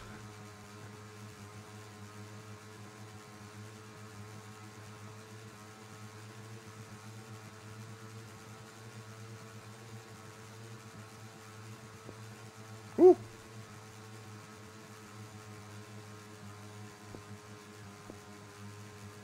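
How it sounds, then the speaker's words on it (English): Motorbike engine in the video game PUBG, a low steady humming drone running throughout at moderate level, interrupted by a single sharp impact knock near the middle. "I should probably get off this motorbike as soon as I can."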